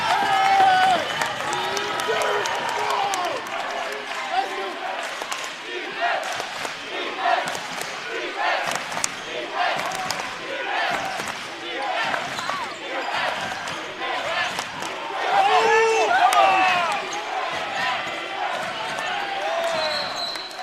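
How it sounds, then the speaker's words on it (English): A lively crowd cheers and roars throughout a timeout in a college basketball tournament quarterfinal at the Drumner Center, sustained loud noise with rising swells, a commentator talking over it. "This crowd is alive here at the Drumner Center."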